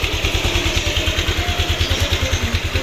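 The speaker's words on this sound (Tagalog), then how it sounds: "Initin muna natin yung motor natin mga kaboyet." A Yamaha Aerox motorcycle engine idles while warming up, a steady, rapid low thumping pulse held close and even throughout, with a faint mechanical clatter over it and no voices.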